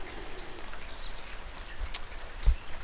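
Rain falls on a wet morning in Burgundy, a soft steady patter of drops with a sharper single drip near the end.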